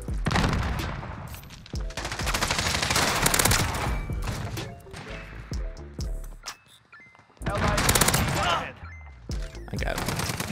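P90 submachine gun hip-fired in Modern Warfare, loud rapid bursts of automatic fire with a short gap before another long burst, mixed with game impacts and effects.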